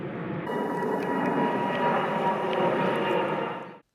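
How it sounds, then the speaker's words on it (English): A steady, broad roar of an airplane passing overhead at Runnymede, holding level for several seconds before cutting off abruptly. "More planes going over."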